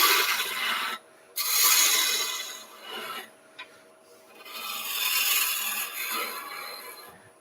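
A spindle roughening gouge cuts into an off-centre wood blank spinning on a lathe. The rasping cut comes in loud, close bursts separated by short pauses, with no voices.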